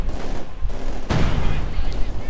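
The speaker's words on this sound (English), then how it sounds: "And there we go, firing the artillery." Artillery firing in the real-time strategy game Company of Heroes 2, a loud sharp blast that cracks and rolls off after about a second, under continuous commentary from a man.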